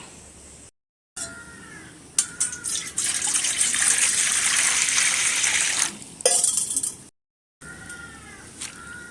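Running tap water gushes loudly and steadily as mud and sand are rinsed off thankuni (Indian pennywort) leaves, with brief pauses and splashy bursts near the start and end.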